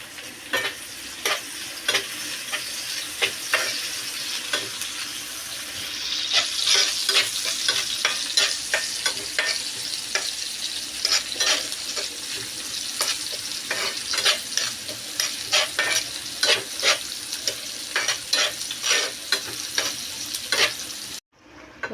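Cinnamon, bay leaf, cumin and tomato fry in a pan for a cashew curry, a steady sizzle broken by frequent stirring scrapes and clicks, close and moderately loud throughout with no talk.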